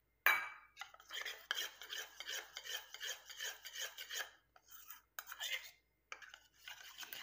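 A stick stirs homemade face cream in a bowl, making close rhythmic scraping and rubbing strokes in short bursts separated by brief pauses.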